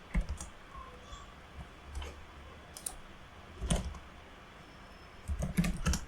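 Keys clatter on a computer keyboard in short irregular bursts of typing with pauses between, close and fairly quiet, with no talk.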